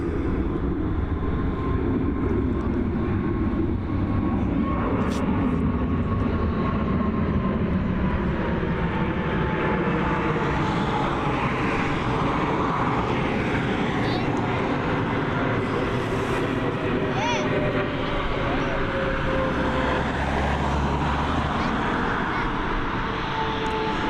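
An Emirates airliner at Dublin Airport, a continuous distant jet rumble with a slowly shifting whine, steady and moderately loud throughout with no voices.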